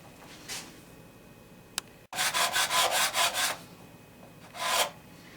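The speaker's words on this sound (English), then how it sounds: "I'm just going to put a crown back on with a 300 grit diamond file" A 300 grit diamond file crowning the frets of a Squier Fender Stratocaster guitar, heard as a close quick series of about seven rasping strokes in a steady rhythm, with a separate stroke before and after.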